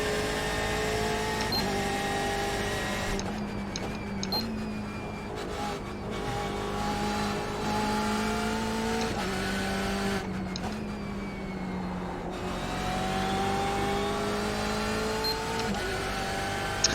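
A BMW race car in the iRacing sim at Watkins Glen, its engine droning loud and continuous with repeated rising and falling revs as it shifts and accelerates, close and unbroken throughout.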